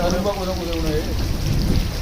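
Steady rain hissing throughout with a low rumble of thunder underneath, while a voice talks over it in the first half.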